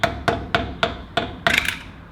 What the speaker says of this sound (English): just use a screwdriver and a hammer